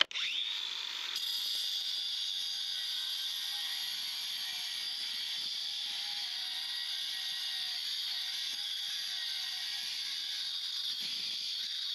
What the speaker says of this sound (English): just making a little space so I can get the grinder blade in a little lower